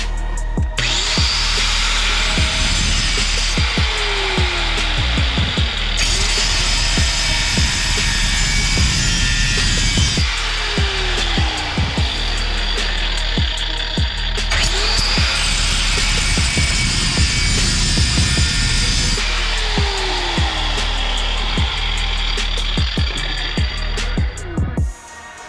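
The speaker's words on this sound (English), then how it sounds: "So after about 15 minutes of grinding, I figured a way to see if I could break this loose." A cutter grinds steadily against a stuck suspension part on a 1G Eagle Talon AWD during a BC Racing coilover install, a loud continuous metallic whine with brief pauses in the cutting, close up and with no voices.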